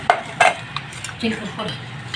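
A utensil scrapes and clinks against a pan while fish fry masala is mixed, with two sharper knocks early on and softer scraping strokes after, close and fairly loud.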